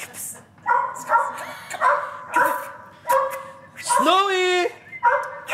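A dog in a shared house gives repeated yips, short barks and high whimpers in close, loud bursts, with one long rising whine near the end, while people speak around it.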